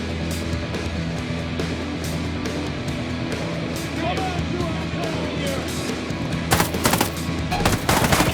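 Gunfire in the video game Ghost Recon Breakpoint: dense, rapid shots crackle over a steady background, growing heavier near the end, with people talking throughout.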